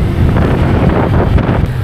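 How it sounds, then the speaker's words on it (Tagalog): Strong wind on a mountain road rushes and buffets the microphone during a scooter ride, a loud, continuous low roar with no pauses. "Ang lakas ng ihip ng hangin"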